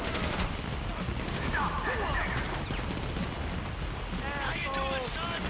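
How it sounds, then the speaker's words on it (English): Continuous heavy gunfire and explosions in an open-world crime video game create a dense, loud barrage, with voices briefly audible over the chaos. "You hear that gunfire?"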